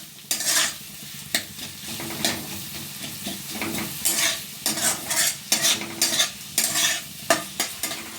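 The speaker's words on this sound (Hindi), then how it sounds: "लगातार चलाते हुए प्याज को हम थोड़ी देर भून लेते हैं" Chopped onions sizzle steadily in a pan while a spoon stirs them again and again, with repeated scraping strokes over a constant frying hiss; no voices.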